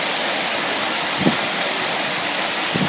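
Waterfall in a Japanese garden, a loud steady rush of falling water filling the whole clip, close and continuous with no voices.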